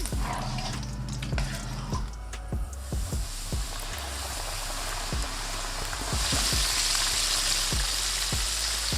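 Chicken wings deep-frying in hot oil give a steady, close sizzle full of crackles and scattered pops, growing slightly brighter and denser toward the end, with no talking.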